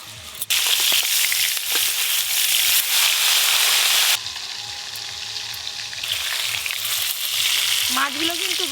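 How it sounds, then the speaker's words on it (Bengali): Fish frying in hot mustard oil in a pan over a stove, a loud, dense, continuous sizzle and crackle that dips briefly partway through and then swells again, with no talking. "এবার মাছগুলো ভেজে নেব।"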